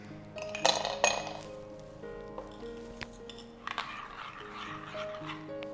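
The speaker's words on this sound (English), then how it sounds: "So to a glass, I'm going to drop in ice cubes" Ice cubes drop into a glass in a kitchen while a rose lassi is being made, producing a few sharp clinks and clatters early on, then quieter scattered knocks.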